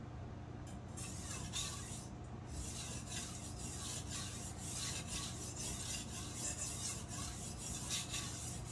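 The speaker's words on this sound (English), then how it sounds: "I like sharpening knife. It's so fun and peaceful." A knife being sharpened, with steady repeated rasping strokes of the blade that sound close and fairly quiet, continuing evenly without talk.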